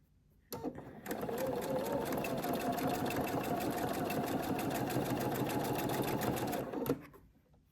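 Sewing machine stitching curved quilt pieces together without pins, a steady fast whirring hum running continuously for about six seconds after a brief start, close and loud.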